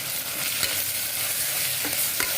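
Mint and coriander being stirred into a pot of seeraga samba mutton biryani, Dindigul Thalappakatti style: a continuous close sizzle with occasional scraping strokes of the spoon against the pot, and no voices.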